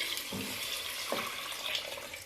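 Water is poured steadily into a pot of browned mutton for nihari in a home kitchen, a continuous splashing fill that runs unbroken from start to end with no talk over it.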